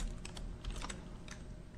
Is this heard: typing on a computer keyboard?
yes